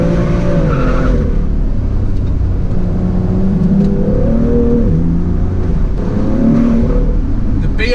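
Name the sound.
BMW M2 car driven hard into corners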